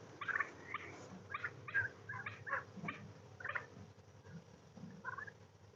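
Turkeys kept in a chicken tractor gobble and chatter in a quick run of short, bright calls, some overlapping, at moderate distance with no talk.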